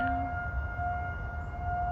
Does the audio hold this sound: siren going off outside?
yes